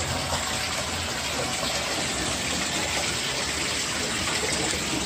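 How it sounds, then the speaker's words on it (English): Water pouring and gushing steadily into a free outdoor onsen hot spring bath in Japan, a continuous close splashing rush with no break. "Lovely, lovely free outside onsen."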